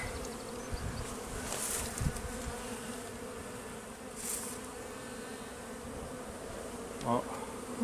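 Honeybees from a weak hive buzz steadily during a spring inspection, a dense close hum with individual bees swelling louder as they pass near.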